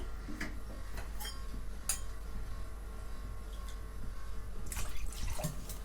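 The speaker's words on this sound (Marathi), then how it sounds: "पाणी ओतून घेते" Water poured into a kadhai in a home kitchen while making rava vada, with faint drips and small splashes and then a louder, fuller gush of pouring near the end; no talking.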